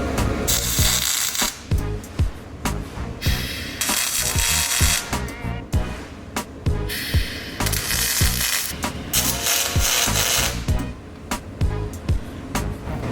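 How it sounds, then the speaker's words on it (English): Aluminum welding on a trailer in a shop: loud, harsh crackling and hissing bursts that repeat in rhythmic stretches of a second or two, with short pauses between. "And that is how you aluminum weld on a trailer."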